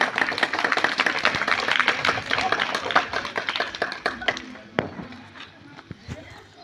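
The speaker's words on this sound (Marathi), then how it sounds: "टाळ्या टाळ्या जास्त वाजवायच्या" A school audience breaks into a burst of dense, rapid hand-clapping, loud and close, which thins toward the end while voices carry over it.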